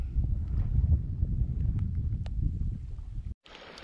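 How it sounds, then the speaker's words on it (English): Wind buffets the microphone on a river during a kayak trip, a loud low rumbling roar with gusts that cut off abruptly near the end before a quieter hiss. "There's some wind picking up."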